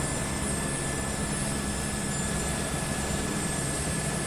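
A helicopter idles near a runway in Microsoft Flight Simulator 2024, producing a steady, unbroken rotor and engine drone with a constant high whine, heard alone.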